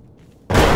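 Grenade explosion in Escape from Tarkov, a single sudden loud blast following near-silence and sustaining as a broad rumbling roar to the end.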